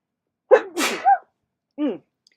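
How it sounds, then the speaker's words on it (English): A single close, sharp sneeze with a quick inhale before it, followed by a brief vocal murmur after a short pause. "I'm gonna sneeze"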